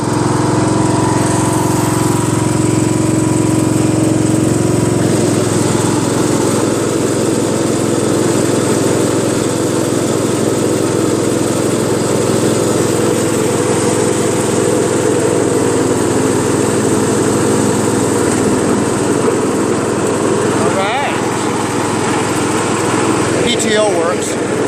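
A Briggs 14.5HP engine on a Poulan 42-inch lawn tractor runs steadily with the PTO engaged, a loud, close, continuous drone with a slight shift in tone partway through and brief faint knocks near the end.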